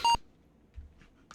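A single short electronic beep at the start, loud and clipped, followed by near silence with faint clicks; an Apple II speaker beep in the GSSquared emulator.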